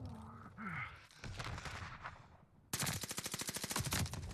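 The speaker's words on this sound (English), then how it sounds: "The recoil is kind of hard to control on the Thompson, honest." A Thompson submachine gun fires in the video game The Vanguard Alpha, with scattered shots and quieter game sounds first, then a loud sustained burst of rapid automatic fire to the end.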